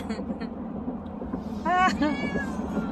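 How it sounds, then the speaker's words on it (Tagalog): A cat cries with a couple of plaintive meows while riding in a vehicle on a trip to another town for a vaccination, over a low engine rumble, with a person speaking nearby. "Wally, stop crying."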